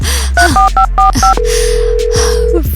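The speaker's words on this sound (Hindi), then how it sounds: "वेल, उठाओ फोन डॉनी।" Telephone keypad tones beep in a quick string of short dual-pitch presses, followed by a long steady tone from the line, loud and close with no talking.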